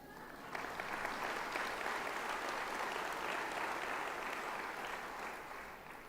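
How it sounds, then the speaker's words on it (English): An audience at a United Way annual meeting gives a sustained round of applause, a broad, even wash of many hands that holds steady throughout and eases slightly at the end. "I'd like everybody to give him a round of applause"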